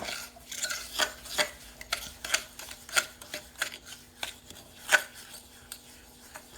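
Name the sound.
mixing sugar and butter together with a fork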